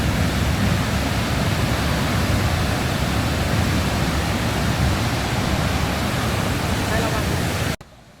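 Waterfall at Geiranger, Norway: a steady, loud broadband roar of falling water that fills the scene without a break, then cuts off abruptly near the end.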